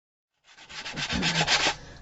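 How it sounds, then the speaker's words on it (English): A Dollar Tree sanding block rubs across painted wood to distress it, a short burst of raspy scraping strokes that builds and then tapers off, close and fairly quiet with no speech. "this is a sanding block from the Dollar Tree. I'm going to just distress this a bit"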